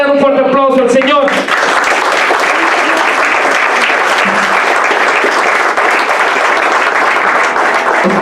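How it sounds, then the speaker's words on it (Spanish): Congregation at a church service gives the Lord a loud, sustained round of applause, dense steady clapping filling the room right after a short sung or spoken phrase at the start. "¿Por qué no le dan un fuerte aplauso al Señor?"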